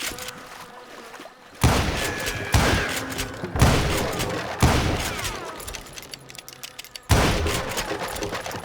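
Gunfire in the video game Call of Juarez Gunslinger: about five sharp, loud gunshot bursts with booming echoes, spaced unevenly, each decaying into a reverberant tail before the next.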